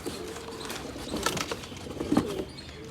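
Purebred pigeons coo softly in a loft, low throaty calls repeating at close range, with light wing flutters and rustling among the birds.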